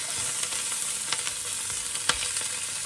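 Onions and sausages fry in a pan with a dense, close sizzle, punctuated by a few sharp clicks and scrapes as they are turned over.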